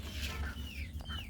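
Pet chickens kept at home cluck softly nearby in a short, quiet burst of a few rising and falling calls over a low background hum.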